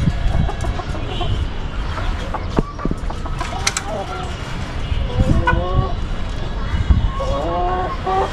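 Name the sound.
chickens and rooster clucking on rooftop farm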